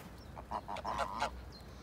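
A few short nasal honks from farm-raised geese, fairly faint and a little distant, in a quick cluster over a low background hum.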